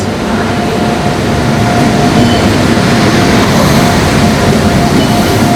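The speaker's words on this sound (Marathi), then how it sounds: "आपली फायनल ट्रेन येते बघा इकडे zero double one three nine ही आहे नागपूर मडगाव एक्सप्रेस" Nagpur–Madgaon Express pulling into a Konkan Railway station, a steady loud rumble of wheels and coaches rolling past close by without a break.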